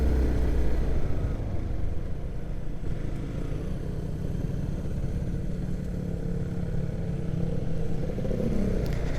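A 150 cc motorcycle climbing a steep hill road in cold Temanggung, its engine droning steadily at moderate level with a brief clatter, heard from the rider's position for several seconds.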